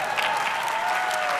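Audience applause during a comedy talk at Harvard: dense, even clapping from a large crowd, sustained and fairly loud for the whole moment.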